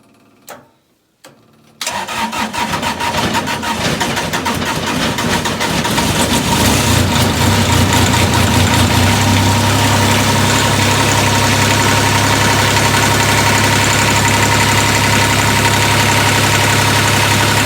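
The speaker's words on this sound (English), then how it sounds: "This tractor starts like nothing anyways" A diesel tractor engine cranks briefly after a few faint clicks in snowy weather, then fires up and settles into a loud, steady idle with a low rumbling drone.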